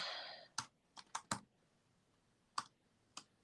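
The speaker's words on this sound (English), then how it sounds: "I'm just typing it in." Typing on a computer keyboard, a handful of sharp separate key clicks in small bursts with pauses between, close and fairly quiet after a brief hiss at the start, no talk.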